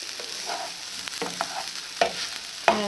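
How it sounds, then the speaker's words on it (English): A spoon stirs through food in a frying pan on a hob that has just been turned off, giving scraping strokes and a soft sizzle, with a few sharp clinks against the pan. "give this one a little stir"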